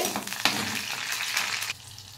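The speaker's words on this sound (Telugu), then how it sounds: "ఇది కొద్దిగా రప్పగా వేగాలి." Green chillies frying in a pan of hot oil, a steady close sizzle with a brief louder crackle burst near the start before it settles down.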